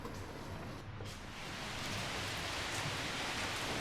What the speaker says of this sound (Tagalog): Sobrang ulan dito ngayon sa Hanoi.